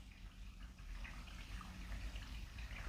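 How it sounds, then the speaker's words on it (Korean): Gentle water trickles steadily somewhere nearby, a soft continuous babbling flow with faint splashes and no talk over it. "지금 이렇게 옆에서 이렇게 물소리가 나네요. 잔잔하게."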